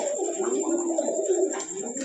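A pair of blue barless Modena pigeons coo in soft, rolling low notes, close by and steady for a couple of seconds, with no voices over them.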